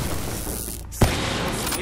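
A single gunshot bursts from a weapon in Call of Duty Black Ops 3, a sharp close report cutting through constant loud game noise and a dull background rumble.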